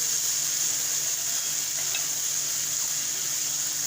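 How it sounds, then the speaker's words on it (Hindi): Steady, continuous sizzle of ingredients frying in a pan for chicken macaroni, a dense hiss holding at an even level throughout with no talk. "थोड़ा सा फ्राई करेंगे।"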